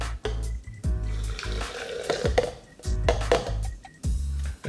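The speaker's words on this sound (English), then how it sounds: "All right, hot water goes in." Hot water pours into a cup or brewer to make Crio Bru brewed cacao, heard close as a liquid gush with bubbling splashes, broken by a few short pauses and clinks.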